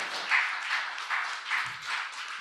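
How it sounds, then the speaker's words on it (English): Applause from the audience at a Manhattan community board meeting, a soft, steady patter of clapping hands heard at some distance, swelling slightly in waves. "So a round of applause for those that made that happen."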